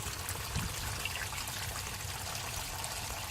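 Water draining from the differential of a flood-damaged Dodge Ram truck, a steady trickling pour running continuously without pause.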